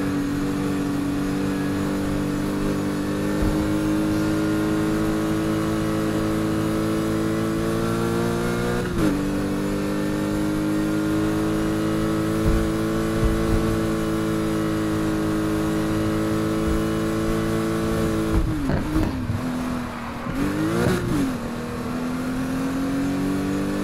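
Lotus Exige S engine in Need for Speed Heat, a steady high drone that rises and falls through gear changes on a winding countryside track, with sharp shifts and revs near the end and no voices.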